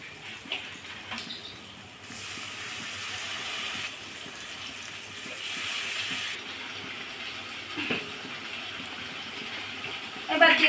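Vinegar poured into a turmeric-coloured mango pickle spice mix in a home kitchen, a steady liquid pouring hiss lasting several seconds, close and moderately loud over faint background noise.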